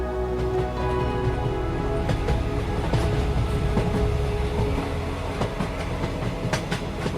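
Train travelling as a story sound effect, continuous rail rumble with rhythmic clickety-clack and wagon rattle, steady and moderately close throughout.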